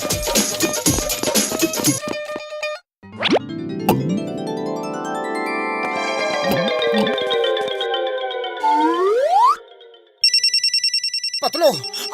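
A cartoon telephone rings with a synthetic ringtone: bright electronic chiming tones alternate with sliding musical effects, loud and close, with voices speaking in the scene.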